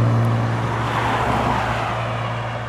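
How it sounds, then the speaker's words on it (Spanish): Cars pass along a road near old railway tracks, making a loud, continuous roar of traffic that swells and fades slightly throughout. "No dejan escuchar los carros."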